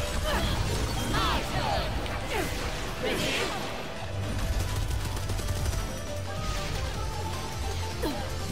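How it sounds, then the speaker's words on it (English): Gunfire and crashing effects from the Bayonetta 3 video game during a boss fight with bats being shot, rapid bursts and whooshes layered over a continuous loud game soundtrack. "She's shooting all these bats at me and stuff."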